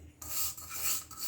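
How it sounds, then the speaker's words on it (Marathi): Semolina being roasted and stirred in ghee in a pan, a dry scraping rasp that comes in close and continuous, with brief dips between strokes, no talk. "तुपावर रवा भाजून घ्यायचा आहे चांगला"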